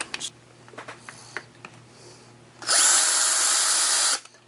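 A drill bit bores out a rivet on a die-cast toy car, a '63 Studebaker, after a few soft clicks and taps; a close, high-pitched whirring burst then runs for about a second and a half.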